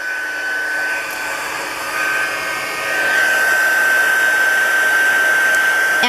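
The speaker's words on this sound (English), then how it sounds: "I'm just going to take the heat tool, and dry them off a little bit." A heat tool blows steadily over stamped paper leaves to dry them, a continuous close whooshing roar with a faint high whine that swells louder partway through and holds.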